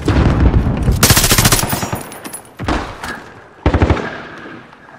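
Rapid bursts of automatic gunfire in an online Call of Duty Modern Warfare match, loud and close, with a long volley followed by two shorter bursts.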